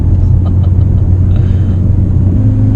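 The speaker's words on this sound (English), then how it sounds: "It really feels as if this engine now has a new lease in life." A car engine runs while the car is driven on the road, giving a loud, steady low rumble heard from inside the cabin throughout.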